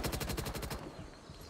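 Automatic gunfire in the video game Firewall Ultra, a rapid, loud burst of about a dozen evenly spaced shots that cuts off partway through, leaving a fading rumble.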